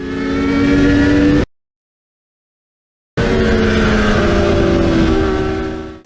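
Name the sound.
R3 accelerating hard on track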